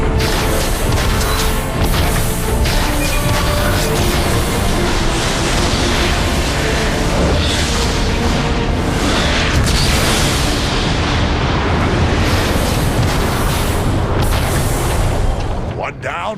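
Continuous heavy artillery booms and blasts in Transformers: Fall of Cybertron pile up into a dense, loud roar of explosions, with voices shouting underneath.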